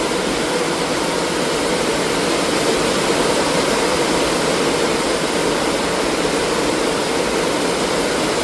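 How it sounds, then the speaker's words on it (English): Heavy pouring rain roars as a loud, dense, continuous wash with no breaks, steady from start to finish. "they said it was going to pour rain"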